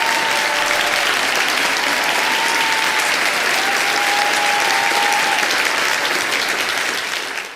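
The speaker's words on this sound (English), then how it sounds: "please give a warm welcome and round of applause for international speaker" Sustained audience applause welcoming a speaker at a lecture event, many hands clapping in a loud, dense, even roar that holds for several seconds with a few voices and whoops rising through it before tapering off.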